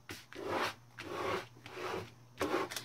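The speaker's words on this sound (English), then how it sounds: "I'm going to take my squeegee and smooth it out" A squeegee is pushed in repeated strokes across a foil sheet as it is smoothed onto a full-size page, giving about five rasping, rubbing swipes at close range with short pauses between them and no talk.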